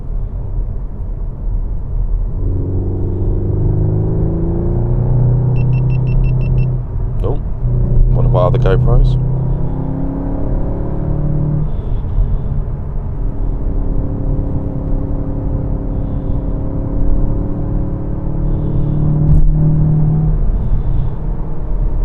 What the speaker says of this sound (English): Oh, can you hear the engine tone change?